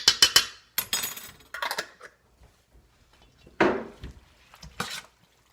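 A spoon stirs homemade garden-fresh salsa in a metal pot, giving scattered scraping clanks in short bursts separated by pauses, close and moderately loud, with no voices.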